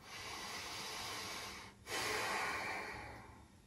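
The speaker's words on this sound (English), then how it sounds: "Take a deep breath." A deep, close breath during Zhan Zhuang standing practice: a long airy inhale, a brief pause, then a fuller, louder exhale that slowly fades, with no talk.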